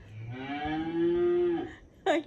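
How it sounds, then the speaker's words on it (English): A single cow gives one long, clear moo lasting over a second, fairly close, followed by a short burst of another sound. "A cow."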